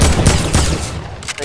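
Rapid burst of gunfire from the video game Fortnite, loud and close, with several quick shots in succession and a faint voice briefly underneath.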